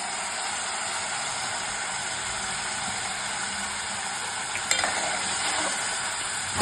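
Finely chopped tomato hits softened onions frying in a pan, giving a steady, close sizzling hiss with one brief clatter of a spoon midway.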